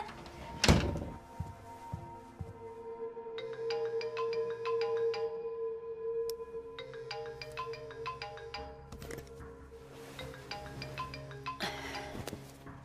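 A telephone ringtone sounds in a French suspense-romance film scene: repeating electronic tone bursts come in two long phrases after a sharp thump near the start, clear and fairly loud, with no talk over them.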